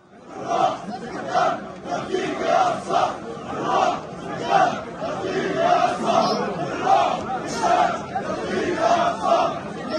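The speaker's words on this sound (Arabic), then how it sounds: "تجمع الآلاف في باحات المسجد الأقصى حيث رددوا هتافات داعمة للمقاومة الفلسطينية" Thousands of worshippers gather in the courtyards of al-Aqsa Mosque after prayers and chant slogans, a loud rhythmic mass chant rising and falling in regular waves of voices across the open compound.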